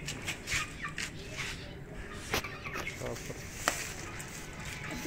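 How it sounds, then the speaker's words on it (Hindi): Hens cluck softly amid faint outdoor rustling and clatter as their cage is opened, with a few sharp clicks; voices murmur in the background. "अब हम मुर्गियों को खोलते हैं"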